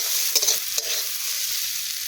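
Egg bhurji frying in a pan, a quiet steady sizzle with two quick spatula scrapes near the start, heard close with no one speaking.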